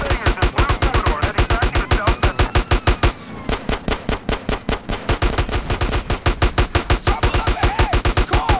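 Rapid automatic gunfire from a shooter video game, sustained bursts of evenly spaced shots running almost the whole time, loud and close, with a brief pause midway.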